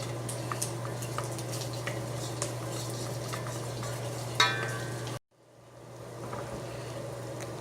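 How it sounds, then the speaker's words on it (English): Flour for a cheese sauce cooks in a pan, frying with a soft sizzle and quiet scraping as it is stirred, faint and steady. A louder clink comes near the end before the sound drops out suddenly and then slowly returns. "you're just going to want to stir it and kind of cook the flour a little bit here"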